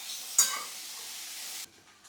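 Onions sizzle in a hot pan over a low flame with a quick stir and scrape near the start. The frying fades out abruptly just before the end.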